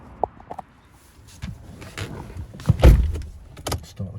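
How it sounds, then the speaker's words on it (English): The panoramic roof motor on a Mercedes-Benz E250 CDI AMG Sport tilts and slides with a soft electric whir, set among faint clicks and a couple of louder thumps near the middle. "panoramic roof, tilts and slides."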